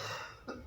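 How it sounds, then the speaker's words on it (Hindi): A single short cough, sharp and close, right at the end after a brief quiet breath. "खांसी मेरी चरम सीमा पे पहुंच गई है"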